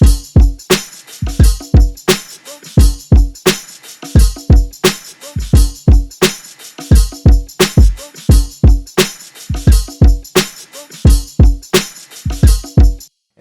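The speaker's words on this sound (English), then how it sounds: "I found this percussion loop, and that added this extra little flair to it, and it sounds like this." Percussion loop from a smooth hip hop beat, crisp punchy hits repeating in a steady, bouncy rhythmic pattern, loud and close with no voices over it.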